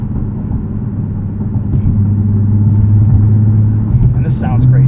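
Steady low engine drone from a 2012 Nissan 370Z with a six-speed manual, heard from inside the cabin while driving and rising a little louder toward the end as the revs are matched, with people talking over it.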